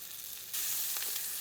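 An eye round steak sears in a hot pan, a soft sizzle that swells suddenly into a louder, steady frying hiss as the meat is moved, heard close and alone.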